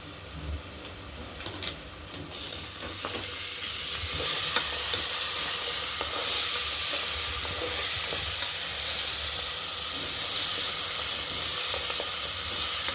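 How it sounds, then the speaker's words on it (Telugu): Ginger-garlic paste and turmeric fry with onions in a pan for a mutton curry, giving a steady close sizzle and hiss with a few stirring scrapes early on. The frying grows louder and more even after the first few seconds. "పచ్చివాసన పోయే వరకు అల్లం వెల్లిగడ్డ వేయించుకోవాలండి."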